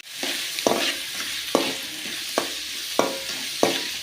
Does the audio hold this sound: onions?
yes